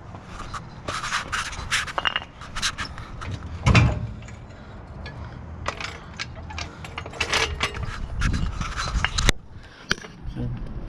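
Jack being worked under a 2018 Ford F150 during rear block removal in a shop, giving repeated ratcheting and mechanical scraping clicks with a sharper clunk partway through, close and fairly steady over background noise.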